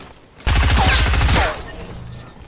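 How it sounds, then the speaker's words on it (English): A loud burst of rapid automatic gunfire in a video game squad match, a dense sustained volley lasting about a second and close by, then fading into lower game noise. "Someone's shooting me."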